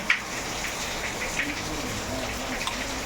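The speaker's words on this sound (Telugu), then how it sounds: "వర్షం అయితే బస్తంగా పడుతుంది" Heavy rain falls outside a home kitchen while chicken curry is being cooked, a steady broadband hiss of rain on surfaces with occasional louder drops, continuous and fairly close.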